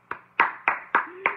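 Hands clapping five times in a slow, even rhythm, each clap sharp and close, with a faint voice briefly underneath.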